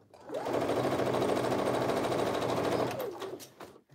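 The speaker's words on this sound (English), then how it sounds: "We've already had enough little shenanigans with the sewing machine and the fabric being eaten up by the machine." A sewing machine stitches fabric for a tee in one sustained, loud mechanical run that starts quickly and then slows and stops, followed by a few faint clicks with no talking.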